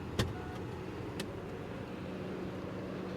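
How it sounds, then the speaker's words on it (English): Power tailgate of a 2022 Mercedes GLE 580 V8 opening: a click, then a faint steady electric motor hum, quiet and close, with no talk. "now let's open the trunk and check out the boot capacity"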